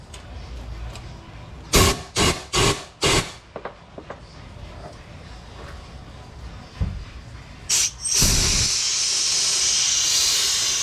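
Compressed air blasts drying a freshly sanded and polished crankshaft journal on an engine still in place, several short loud bursts in quick succession, then a longer steady hiss near the end, with no talking.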